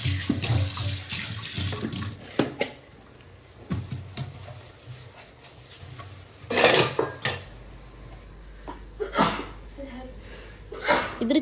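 Dishes and cutlery are rinsed in a kitchen sink under a running tap, giving a steady wash of water broken by sharp clinks and clatters, with a voice speaking at times.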